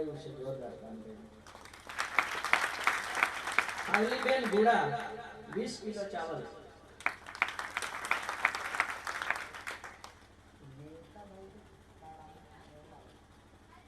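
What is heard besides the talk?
audience applauding, clapping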